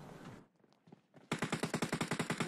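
Rapid automatic gunfire in PUBG Mobile, a loud burst of about a dozen evenly spaced shots after a brief quieter stretch of faint scattered sounds.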